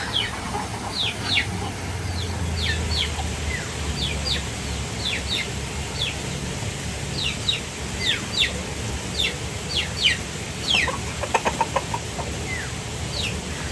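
Chickens cluck and squawk intermittently throughout, with scattered short calls over a faint background hum, and a brief burst of flapping near the end.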